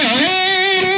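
Electric guitar with a distorted slide riff and a whammy-bar scoop: a single sustained note bends upward from a dip and then holds, loud and close with rich overdriven harmonics, no voices.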